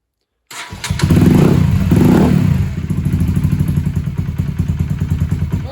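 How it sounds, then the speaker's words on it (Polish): A Honda CBR 125 motorcycle starts cold after sitting overnight, with a quick crank that catches into a loud, close, uneven idle, settling into a rapid steady single-cylinder putter that keeps running without talk. "Na zimnym zobaczymy jeszcze jak to pali, bo też wiem, że miał problem z paleniem na zimno."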